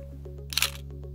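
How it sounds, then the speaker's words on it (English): A single crisp camera shutter click, short and close, against a quiet steady hum. "just as the photo shutter goes"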